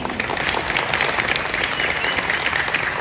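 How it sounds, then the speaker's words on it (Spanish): An audience at the opening of a school holiday basketball tournament applauds after a speech by a deputy, a loud, dense, even burst of many hands clapping with no voices over it. "El aplauso que se sienta."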